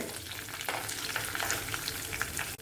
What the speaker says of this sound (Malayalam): ഇഞ്ചിയെല്ലാം ഒന്ന് മൂക്കട്ടെ